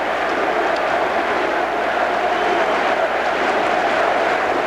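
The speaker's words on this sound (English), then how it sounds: "the crowd appreciates here on an emotional weekend in Ann Arbor" A big stadium crowd at Michigan's football halftime applauds the Western Michigan Bronco Marching Band and the home band in Ann Arbor, a steady, dense wash of clapping and cheering that holds without a break throughout.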